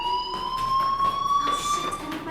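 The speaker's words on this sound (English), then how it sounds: "Hey, do you hear that fire alarm?" A fire alarm in the video game Life is Strange rings steadily with sustained high electronic tones that hold for a few seconds.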